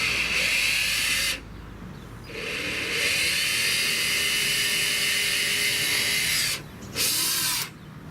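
A power drill bores a pilot hole while a bike rack is fitted, a steady high whirr that runs in long bursts with short pauses between, fairly close and alone.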